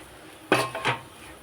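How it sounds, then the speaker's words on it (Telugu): A lid lifted off a pan of tempering with green chillies and the mixture stirred, giving two brief, fairly close metallic clanks about a third of a second apart, with quiet before and after. "1 నిమిషం తర్వాత సరే మూత తీసేసుకొని బాగా కలుపుకోవాలి."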